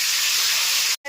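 Chopped tomato drops into a hot pan in a cabbage curry, setting off a loud, close, steady sizzling hiss that cuts off abruptly near the end.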